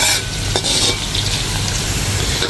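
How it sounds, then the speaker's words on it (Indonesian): Onions and spices frying in a pan for a curry of beef with bones, a loud close steady sizzle with stirring scrapes and a brief clink of utensils against the pan. "So, kita masak bahan-bahan ni sehingga kekuningan."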